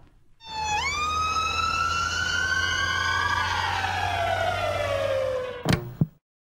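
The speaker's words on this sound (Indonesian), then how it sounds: "Ambulan itu kan terus ngasilin gelombang bunyi dari sirenanya ya." An ambulance siren passes by, a loud sustained wail whose pitch drops as it moves away in a clear Doppler shift, ending with a brief sharp click.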